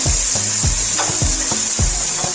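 Ground spices such as coriander and roasted cumin powder frying in a pan for dhaba-style aloo gobi, a loud, close sizzle with rhythmic scraping strokes of stirring about every half second, no voices.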